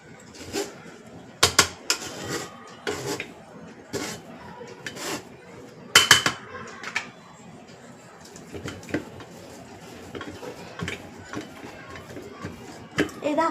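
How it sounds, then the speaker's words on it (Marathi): A metal spoon scrapes and drags cooked puran (sweet lentil filling) from the sides of a cooking pot, producing soft intermittent scraping and knocking sounds with a few sharper clinks over quiet room noise. "आणि साईडचं असं आपल्या चमच्याने आतमध्ये ओढून घ्यायचं"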